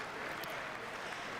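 Distant applause in the chamber of Congress as the President's Cabinet enters for a congressional address, a soft, steady wash of clapping heard faintly in the background.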